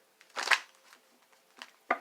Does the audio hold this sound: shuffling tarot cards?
yes